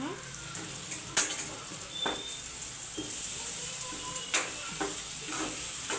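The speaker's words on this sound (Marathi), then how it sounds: "आता हे वाटण आपल्याला मिक्स करून घ्यायचंय." Onion-coconut masala paste is being stirred into mutton curry in a pot, with soft sizzling, scraping and occasional clinks of a spoon against the pan, while a person talks now and then.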